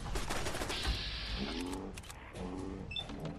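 Gunfire in the video game Fallout 4 comes as rapid bursts of shots, dense and loud at first, then thinner, with growling creature sounds and small electronic beeps mixed in.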